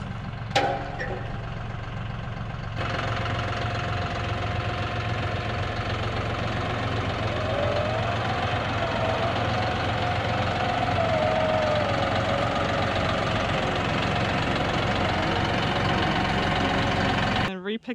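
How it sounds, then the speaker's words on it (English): A truck engine idles steadily at a ranch dig site, a constant low knocking rumble that runs alone throughout with no break. "now we've got a truck in the way"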